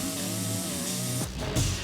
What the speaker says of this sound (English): Rough edges need to be ground down